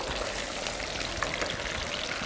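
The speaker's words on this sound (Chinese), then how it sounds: "入锅油温要高，要炸到什么程度呢？ 几乎要炸到全熟。" Chicken breast deep-frying in very hot oil gives a steady, dense sizzle and crackle, close and fairly loud, with no talking over it.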